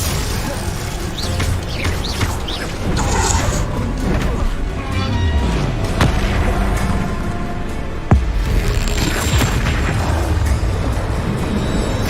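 Confringo explosive spell cast in the Hogwarts Legacy game, dense booming blasts and crashing debris over a busy combat soundtrack, loud and continuous with a sharp crack near the middle.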